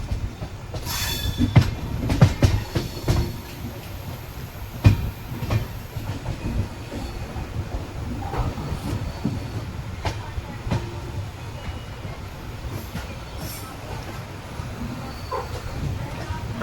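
A train rolls in along the track toward platform 2 at Hapa railway station, a continuous low rumble with scattered clicks and brief wheel squeals, moderately loud throughout.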